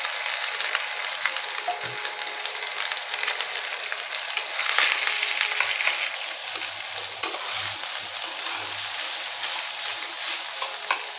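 Parboiled rice frying and being stirred in a pan for Bengali chicken pulao with pointed gourd, a steady close sizzle with scraping strokes and a few soft knocks, no talking.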